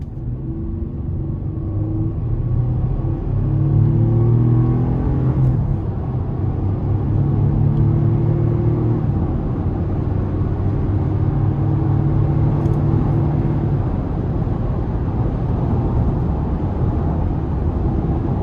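A 2022 Chevy Colorado ZR2 pickup with a V6 engine accelerates on the road, its engine note rising through steady, loud rumbling gear pulls with low road and tyre noise underneath.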